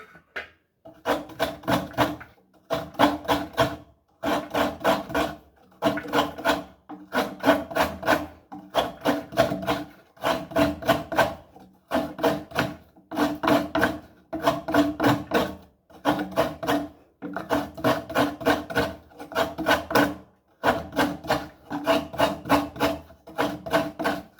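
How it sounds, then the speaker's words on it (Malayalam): Coconut being grated by hand on a traditional coconut scraper, a steady series of rhythmic rasping scrapes in repeated bursts with brief pauses, close and clear with no talk. "തേങ്ങ തിരുമ്മുക."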